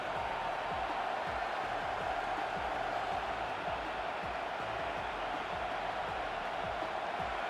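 Stadium crowd cheering during a big third down in the College Football 26 video game, USC versus Nebraska, a steady dense roar of fans that holds at an even level throughout.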